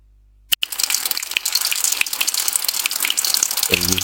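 Continuous rushing water, like a faucet or tap gushing, starts abruptly after a brief silence and runs steadily to the end, loud and close with no voices; an AI-generated water sound effect made in Wondershare Filmora.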